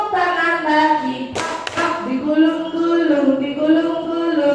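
A group of people in an Indonesian positive-culture classroom session claps hands briefly in a short burst near the middle, under continuous singing and talking.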